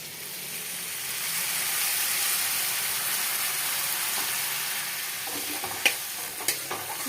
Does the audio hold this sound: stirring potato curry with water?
yes